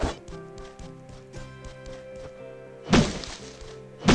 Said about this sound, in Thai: ตัดไม้ไปครับ ห้าต้น